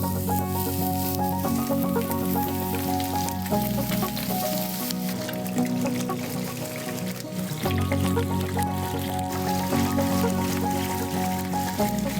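Duck breasts (magrets) searing in a hot pan give a loud, steady sizzle that runs unbroken throughout, with sustained tonal sounds layered over it.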